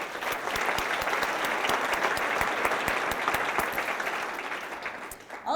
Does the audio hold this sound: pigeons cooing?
no